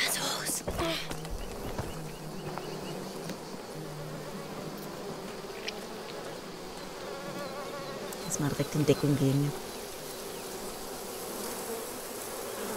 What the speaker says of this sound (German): Boah, diese Bienenkörbe, die machen mich bekloppt.